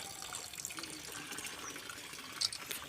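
Water pours onto newly planted saplings at a school tree-planting event, a soft, steady outdoor trickle and splash, fairly faint.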